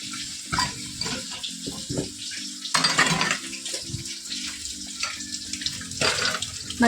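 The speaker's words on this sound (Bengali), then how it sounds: "আগে বাসন কটা মেজে নেবো" Dishes being scrubbed and rinsed under a running tap in a home kitchen sink: a steady rush of water broken by repeated clatters and knocks of pots, plates and utensils, close and fairly loud, with no talking.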